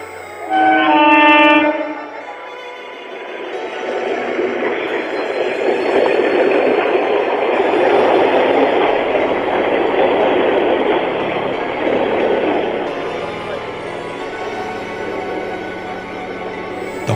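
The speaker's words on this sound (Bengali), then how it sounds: "ট্রেনটা হুইসেল দিয়ে দিব্যি চলে গেল।" A train sounds a short whistle, then a heavy, continuous rumble of wheels and carriages rolls past for a long stretch and slowly eases off. It plays as a sound effect in a story.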